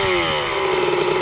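A dirt bike engine idles close by with a steady, loud, high-pitched buzzing exhaust note that holds level throughout, without any talk.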